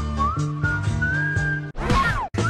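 Someone whistles a melody on a 1973 record, a clear, sustained tone that slides between pitches over a musical backing, broken near the end by a short rising and falling whistled phrase.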